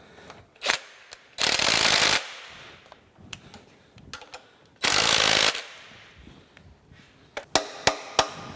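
Ratchet work while tightening the clamp bolts of a radial drill's universal table: scattered sharp mechanical clicks and knocks, broken by two loud, roughly one-second bursts of rasping ratchet action, ending in a few crisp clacks.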